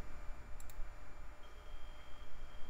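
An old zip drive from a 2000s computer reads a disk, giving two quick faint clicks over a steady mechanical hum.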